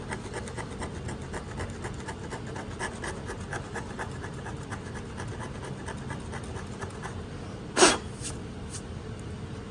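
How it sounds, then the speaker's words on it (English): Primer and rust being scraped off a bare metal test panel, a close, continuous rhythmic rasping with one sharper, louder scrape near the end. "Just gonna start scraping."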